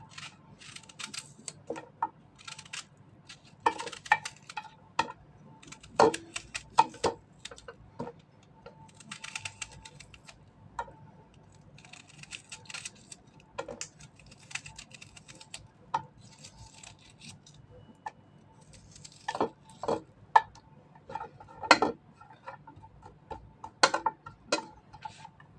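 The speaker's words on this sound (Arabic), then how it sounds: "وهنقطع بصل حلق" A knife taps faintly and irregularly on a cutting board as an onion is sliced into rings, with sharp little clicks scattered across a quiet background.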